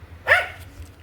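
A single sharp dog bark rings out near a field in the evening, a short loud burst over a low steady hum, then fades.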